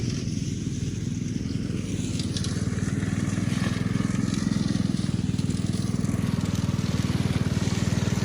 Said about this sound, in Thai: รถตัดหญ้าก็จะเป็น รถเข็นแบบนี้นะครับ